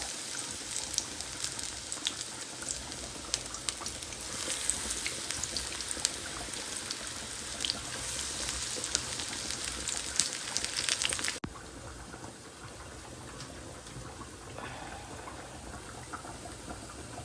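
Fish sizzles and crackles in hot oil in a home kitchen, a dense, steady spatter that continues without a break and then drops to a quieter, softer fry partway through.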